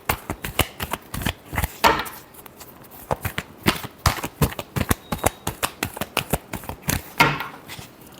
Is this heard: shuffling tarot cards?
yes